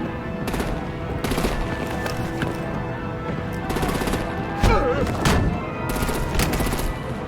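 Gunfire and artillery in the Batman: The Enemy Within video game, with loud, dense bursts of rapid shots repeating over a constant battle roar and a few heavier booming hits.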